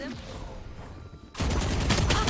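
Gunfire in the video game Valorant, a burst of loud rapid shots erupting after a second of quieter game ambience.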